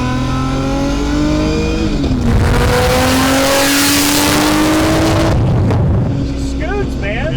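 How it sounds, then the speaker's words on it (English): An 1100hp R32 Skyline GTR street car roars loud and close as it accelerates hard with tires spinning, the engine note climbing through a long pull before easing off, with people talking over it. "So I put it on map 2, and it'll spin the tires."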